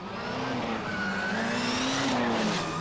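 A Mitsubishi rally car drives on a stage during the 1988 Circuit of Ireland, its engine note rising and falling through gear changes as a continuous loud drone, fairly close and heard alone.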